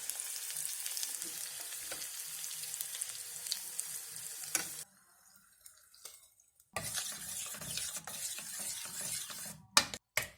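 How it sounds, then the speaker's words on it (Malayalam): Mustard seeds, crushed shallots, crushed garlic and curry leaves fry in oil for an easy Kerala ozhichu curry: a close, crackling sizzle that drops away briefly, then returns with clinks of a pan and utensil. "കടുക് ഇടുന്നുണ്ട്."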